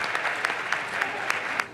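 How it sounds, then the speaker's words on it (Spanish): Businessmen and industrialists applaud President Duque at a business event, a steady mid-distance patter of many hands with a few sharper claps standing out. "Empresarios e industriales celebraron con aplauso las palabras del presidente Duque."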